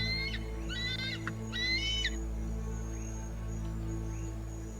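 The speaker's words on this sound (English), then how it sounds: "The African fish eagle, the voice of Africa. Its soaring, piercing cry is the most iconic sound of this wilderness." An African fish eagle in the African wilderness gives a series of high, ringing yelps in the first two seconds, clear and fairly close, followed by quieter calls over a steady low background hum.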